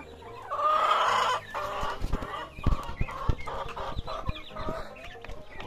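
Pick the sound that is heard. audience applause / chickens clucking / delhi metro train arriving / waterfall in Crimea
chickens clucking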